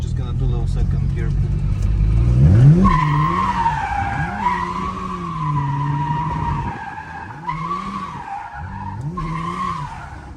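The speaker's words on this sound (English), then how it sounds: "Okay, she does donuts." Welded-diff BMW E82 drift car spinning donuts in second gear, tires squealing in long wavering howls that rise and fall with engine revs, loud and close, with brief breaks between passes.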